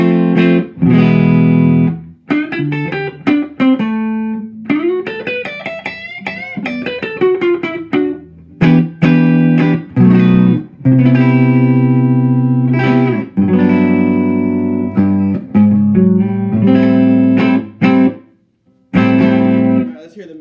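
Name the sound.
electric guitar clean tone through Traynor YCV80 valve combo amp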